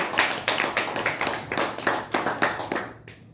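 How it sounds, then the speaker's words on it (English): Applause breaks out at a Toastmasters club meeting, a loud round of clapping from a group of people in a room that keeps up steadily for about three seconds and then stops abruptly. "one big round of applause for everyone who took their second role"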